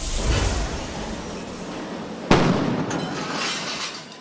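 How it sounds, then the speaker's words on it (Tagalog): A single loud explosion cracks sharply midway through a fire at the NDC Compound, standing out against a steady roaring background of rushing noise. "Dinig ang malakas sa pagsabog habang nagbabaga ang sunog"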